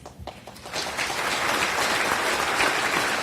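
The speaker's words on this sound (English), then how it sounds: "Now clap your hands." A luncheon audience at the LIFE awards, on their feet in a standing ovation, breaks into clapping that starts in a few scattered hands and quickly swells into a full, loud, sustained round.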